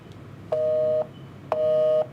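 Telephone busy tone on a redialled call: two clear, loud half-second beeps about a second apart, steady pitch, with no talking over them.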